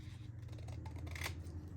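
Scissors snip along the edges of handmade paper tags cut from scraps, one steady close trimming cut with a faint rustle of paper, no voices.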